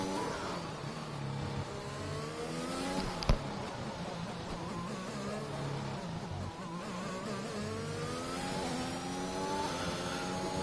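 Mercedes-Benz racing car engine in a racing video game at the Azerbaijan circuit: a continuous high-revving whine rising and falling through gear changes, with other cars blended in and one brief sharp click.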